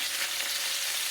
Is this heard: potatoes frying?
yes